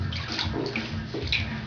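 Water splashes and sloshes in a bathtub as a small child is bathed, soft irregular swishes and little splashes heard close by with no talking.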